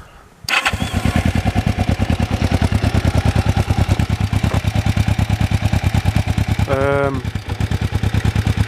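A 1990 Kawasaki EN 500 / LTD 454 cruiser motorcycle, not started from cold and fitted with Harley-Davidson exhausts, starts up and settles into a loud, rhythmic, throaty idle with a deep pulsing exhaust note, close by; a brief voice cuts in midway.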